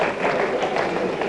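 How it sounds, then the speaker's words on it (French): Steady audience applause and clapping at a 1998 Belgian-Senegalese school quiz show, a dense continuous wash of many hands at even loudness throughout. "Et bravo, on peut l'applaudir."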